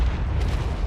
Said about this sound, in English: You hear the explosions behind me, right?